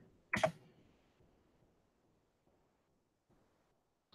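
One sharp computer mouse click sounds close and quiet in a still room, followed by near silence and a faint second click at the end.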